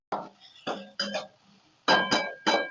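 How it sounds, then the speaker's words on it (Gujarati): Poha flakes go into a pan with turmeric and chili over low heat, then a spoon stirs them, giving a series of sharp metallic scrapes and clinks in irregular bursts, close by and without talking. "પછી નાખીશું પૌવા"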